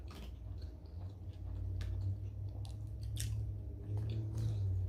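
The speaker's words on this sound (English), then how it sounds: "This is just like a crunch." Close-up chewing of a crunchy sushi roll topped with fried shrimp and crispy bits, with soft repeated crunches and mouth clicks over a low steady hum and no talking.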